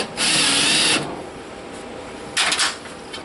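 A power drill drives screws through a plywood piece into a ceiling joist for a kitchen corner pantry, two loud whirring bursts, the first about a second long and the second shorter, close by with a quiet pause between.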